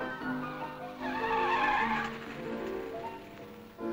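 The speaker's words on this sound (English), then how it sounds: "BBC television came to Chiswick to show viewers cars straight from the motor show going through their paces" Cars fresh from the motor show driven hard on the Chiswick works test ground, with tyres skidding and squealing in a sustained loud screech that swells mid-clip, engines revving underneath, no talking.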